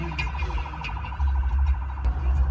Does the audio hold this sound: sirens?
yes